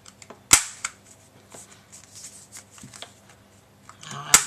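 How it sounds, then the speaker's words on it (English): A corner rounder punch clips the corners of a notelet card, making two sharp, loud snapping clicks about four seconds apart, with faint rustling handling sounds in between and no talk. "Now I'm going to round the corners of this notelet"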